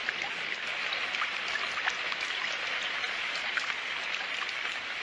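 Heavy rain in a Hindi-dubbed Doraemon cartoon episode, a dense continuous hiss of downpour with scattered droplet taps, steady and fairly loud with no talk over it.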